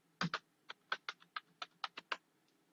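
A password is typed on a computer keyboard, about a dozen close, crisp key taps in an uneven rhythm in a quiet room.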